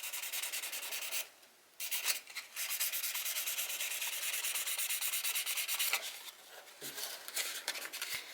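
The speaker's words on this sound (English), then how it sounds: "we're ready to start sanding any excess on the top of the nut that we might have gotten" Sandpaper rubs back and forth over excess super glue on top of an electric guitar nut, close, loud and continuous with brief pauses between strokes.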